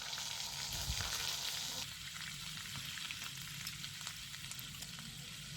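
Ginger paste frying in hot oil left from frying paneer, with whole spices already added, making a loud steady sizzle that drops slightly in intensity partway through as the paste settles, with a few faint stirring scrapes and no talking.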